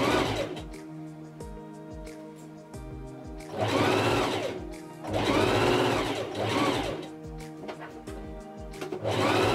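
A sewing machine stitches bias tape onto a garment neckline in several close bursts of rapid whirring, separated by short pauses and quieter mechanical clicks.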